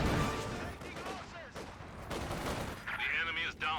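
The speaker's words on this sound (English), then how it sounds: "Has Grenadiers some good nice volley there" Grenadiers fire rifle volleys in a strategy video game, a dense crackle of overlapping gunshots at moderate loudness, while a commentator talks over the battle throughout.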